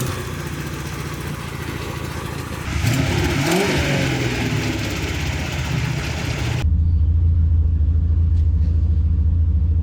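A Corvette's engine rumbles and then revs up as it accelerates on the road, a loud mid-pitched drone that swells partway through and settles into a heavier steady roar inside the car.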